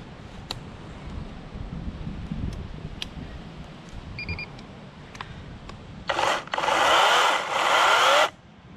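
Greenworks Digipro 16-inch G-MAX 40V cordless chainsaw motor whirring briefly for about two seconds near the end, loud against quiet handling noise and faint clicks.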